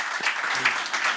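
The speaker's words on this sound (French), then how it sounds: "Vous pouvez encore l'applaudir un petit peu," A studio audience at a Canal+ music show gives a brief burst of steady applause, close and even, with a faint voice underneath.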